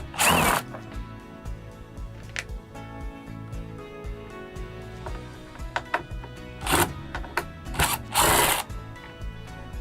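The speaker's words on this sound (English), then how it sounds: "we'll use our cordless drill to remove the screws in the four corners" A cordless drill whirs in several short bursts removing screws from a Coleman-Mach RV air conditioner, with clicks, clunks and handling noise in between, close by and fairly quiet overall.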